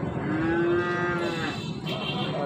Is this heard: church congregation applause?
no